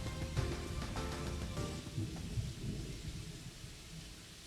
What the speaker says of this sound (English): Can you hear the rain noises in the background?